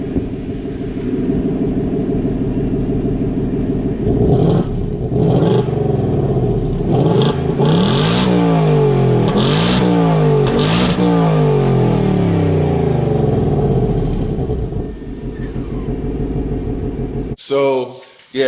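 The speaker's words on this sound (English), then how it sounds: "So if you want to get that V8 rumble, you're definitely going to want to get the Mustang" Deep V8 rumble of a Ford S650 Mustang GT, a steady throaty idle that swells into several revving bursts, close and loud, with voices talking over parts of it and a brief clatter at the end.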